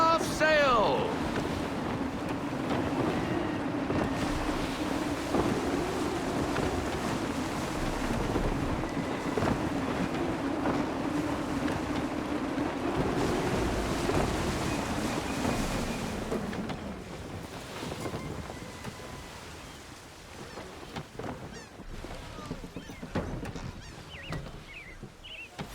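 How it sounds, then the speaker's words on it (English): Sailing ship at sea in Assassin's Creed III, gusty wind rushing over steady ocean waves and hull wash, loud and continuous before easing off in the final stretch; a voice speaks over it. "Gusty winds can be difficult to manage."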